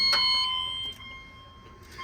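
Several fire alarm chime appliances, a System Sensor, a Gentex, a Simplex True Alert and a Wheelock chime strobe, ring together in perfect sync: one loud, bright, sustained multi-tone chime that rings out and decays over about two seconds, with no talking.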